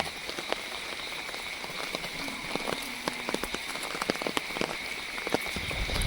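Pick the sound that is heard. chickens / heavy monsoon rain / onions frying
heavy monsoon rain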